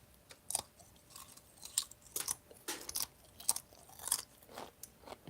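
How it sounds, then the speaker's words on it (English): Crunchy bites of homemade fried tortilla strips topped with Parmesan cheese, heard as a run of sharp, close crackling crunches and chewing at irregular intervals, with no talking. "Listen to the crunch of the bit."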